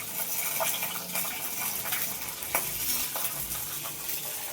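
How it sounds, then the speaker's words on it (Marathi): Garlic dropped into hot oil for a spicy mashed brinjal dish sizzles and crackles steadily, with stirring scrapes and a few sharper pops over a continuous frying hiss. "आता लसूण टाकते मी टाकते"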